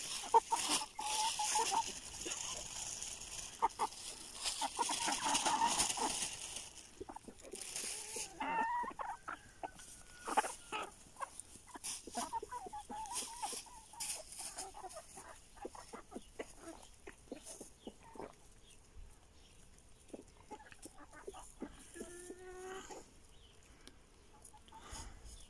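Backyard hens cluck and chatter steadily while feeding, with scattered short calls and a few louder squawks near the start, over a busy farmyard background and occasional rustling.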